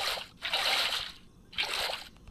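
Water being placed in the Minecraft video game gives two bursts of bright, hissing sloshing and splashing, each lasting about a second, with a short quiet gap between them and no voices.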